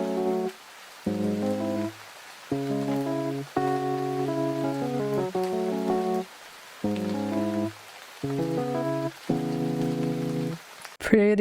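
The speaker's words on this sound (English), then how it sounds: "And then you add the rain sound and on the intro," A rain sound effect laid over an electric piano recreation of a song's intro: a steady hiss of rain runs beneath a series of sustained chords with short gaps, ending in a brief bright swell, with no talk.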